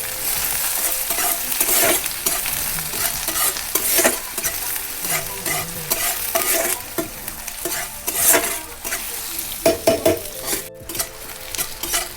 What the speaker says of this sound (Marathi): कांदा पण चांगला परतून घ्यायचा